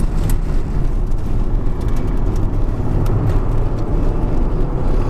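An Alpine A110 race car on a circuit straight, heard as a steady, loud engine and road roar from close by, continuous with no distinct pauses and no talking.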